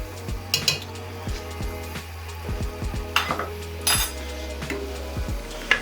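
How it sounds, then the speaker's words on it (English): Turmeric being stirred into chicken xacutti in a pot, heard as repeated close scrapes and clinks of a utensil against the metal over a low steady hum and soft sizzle, with no talk. "Give that a stir"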